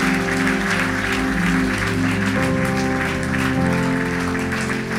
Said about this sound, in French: Est-ce qu'on veut applaudir le roi des rois dans ce lieu?